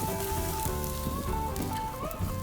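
A T-bone steak sizzles on the grate of a Weber charcoal grill, a steady, fairly quiet hiss and crackle with tonal sounds running underneath.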